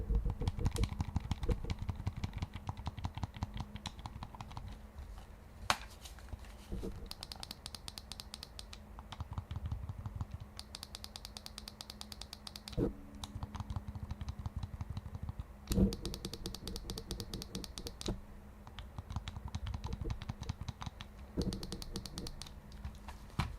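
Clicky ABXY face buttons and D-pad on a modded PS5 controller, pressed in fast irregular bursts of sharp little clicks, close and fairly quiet, with a few louder taps mixed in.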